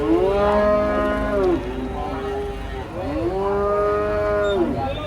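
Several cattle moo in long, loud, drawn-out calls, one after another, as they are unloaded from an old truck, with faint background noise between the calls.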